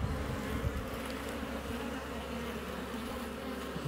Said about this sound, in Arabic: تلاحظوا معايا ما شاء الله طرد كبير. دي النحل دار عليها العام